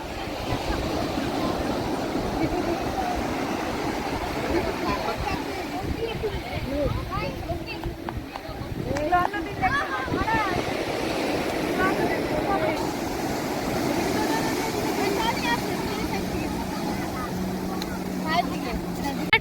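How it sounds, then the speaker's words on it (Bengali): Sea waves breaking on the beach at Puri, a continuous broad rushing roar filling the whole stretch, with people talking over it throughout. "আর এই যে সমুদ্রের স্রোতের শব্দটা,"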